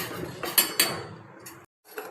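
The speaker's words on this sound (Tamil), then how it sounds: "கைவிடாமல் கிண்டணும், இல்லாட்டி கட்டி விழுந்துடும்" A spoon scrapes and knocks against a pot of ragi porridge in an uneven rhythm, with a couple of sharper metallic clinks, close by and moderately loud.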